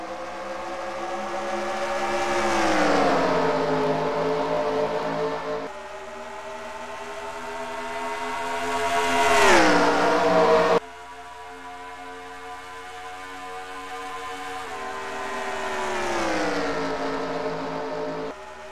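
Stock cars in a video game race, Ford Fusions in the All-Star race at Charlotte, roaring past in repeated waves. Engine pitch rises and falls with each pass, loud and sustained, with no voices.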